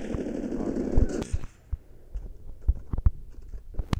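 Rapid bursts of PDW57 gunfire in the mobile shooter game Call of Duty Mobile, a dense rattling volley first, then scattered sharp single shots and short bursts at moderate loudness.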